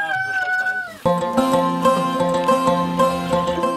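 A chicken waiting to be slaughtered clucks and calls near at hand, its voice rising and breaking off before steadier sounds continue, somewhere in the Alpujarras of Spain.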